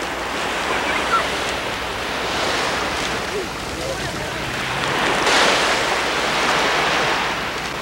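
Mediterranean sea waves at Cannes beach, a continuous wash of surf rising and falling with wind noise buffeting the microphone.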